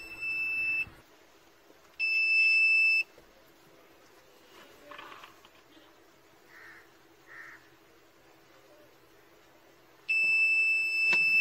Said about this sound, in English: a buzzer is activated which alerts the driver.